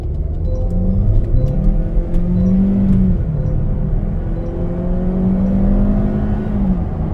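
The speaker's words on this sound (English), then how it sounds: "we're going to do a little 0 to 60 demonstration" A Kia Optima SXL Turbo accelerating hard from a stop to 60 mph, heard from inside the cabin as a steady, loud engine drone with rising tones that climb through each gear and dip at every shift.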